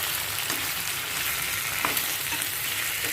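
Potatoes tossed into onions frying in oil for Kashmiri gande te alve, a dense, continuous hiss of sizzling with faint stirring knocks, close and fairly loud throughout.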